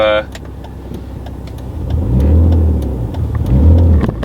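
A car engine drones up close, rising twice into louder revs, with a brief voice at the very start.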